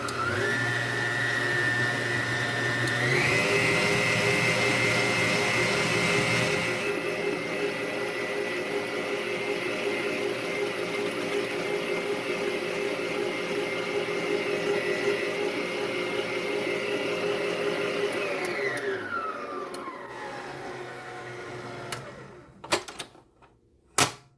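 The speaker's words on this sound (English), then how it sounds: "I decided to whisk this up with the mixer." Electric hand mixer whisking lemon pound cake batter, a loud continuous whir that shifts pitch a few times as speed changes, then winds down and ends with a few clattering knocks, no talking.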